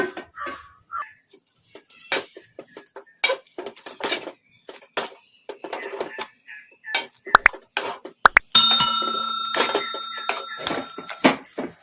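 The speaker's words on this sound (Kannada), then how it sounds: "ಬಟಾಣಿ ಆಲೂಗಡ್ಡೆ ಮೆತ್ತಗೆ ಬಿಟ್ಟಿದ್ದಾವಲ್ಲ ಈ ಥರ ಸ್ಮ್ಯಾಶರಿಂದ ಸ್ಮ್ಯಾಶ್ ಮಾಡ್ಕೊಂಬಿಡೋಣ" A masher works boiled peas and potatoes in a metal pot, making irregular clanks, taps and soft squelches, with a steady electronic beep partway through.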